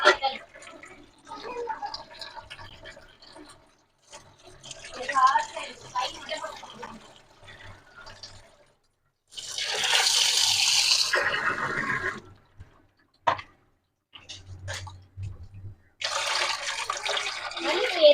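Dal lentils are rinsed in water in a kitchen, with bursts of running tap water and sloshing splashes between stretches of talk, the pouring loud and close.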